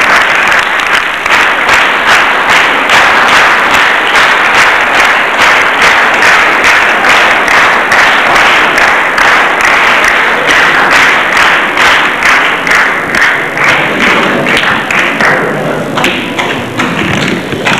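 A church congregation claps in steady applause, a dense, loud patter of many hands sustained throughout before thinning slightly near the end.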